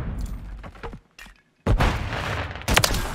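Gunfire in Call of Duty: loud, close shots and booming blasts in bursts, broken by a brief near-silent gap before a dense volley resumes.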